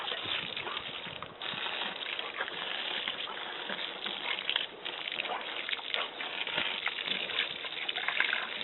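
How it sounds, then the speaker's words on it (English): Garden water hose spraying and rinsing dogs off after a swim in a pond, a continuous hissing, splashing gush of water at steady loudness throughout. "After we swim in the pond, we have to get rinsed off with the water hose."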